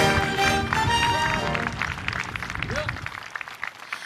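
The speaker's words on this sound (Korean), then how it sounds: "모두 신임 경찰들에게 큰 박수 부탁드립니다." An audience applauds newly appointed police officers at a formal appointment ceremony, a broad roll of clapping that starts under voices and fades away toward the end.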